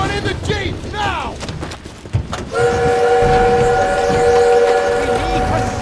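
Rumbling train in a Call of Duty World War 2 scene, with clattering and bangs under shouting, then a loud sustained whistle that holds steady over the continuing rumble.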